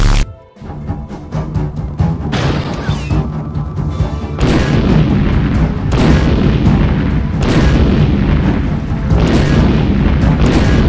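Heavy booms from a tank cannon in a Roblox game, several loud blasts spaced a couple of seconds apart, each with a sharp attack and long rumbling tail that keeps the din high between shots.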